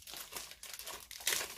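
A small web bag holding tarantula keeper cards crinkles and rustles as it is opened, in several short bursts with a louder crackle near the end, close up and with no talking.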